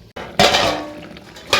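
A metal lid clanks down onto a pan of chicken being cooked with cauliflower, one sharp clattering strike followed by a brief ringing decay, then a second small clink near the end.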